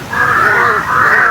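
Crows cawing nearby: one long, harsh, sustained caw that runs almost unbroken and loud, with only faint background noise behind it.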